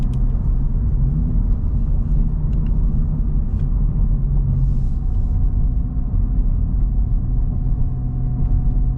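A Honda Civic Type R FL5 on the road, its engine and road noise forming a steady, loud low rumble throughout as the car slows through a lower-speed stretch.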